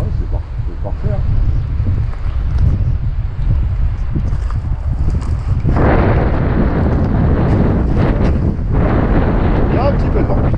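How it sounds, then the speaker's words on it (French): Strong stormy wind buffets the microphone in a continuous low roar at an RC warbird plane flying session, surging louder midway through, with faint voices now and then underneath. "Il y a un petit peu de vent."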